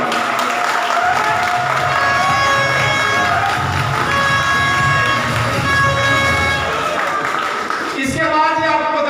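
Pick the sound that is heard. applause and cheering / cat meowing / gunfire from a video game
applause and cheering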